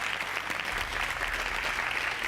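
Audience applause for a debate round winner at a leadership show, a dense, steady patter of many hands clapping at moderate level throughout, with no talk over it.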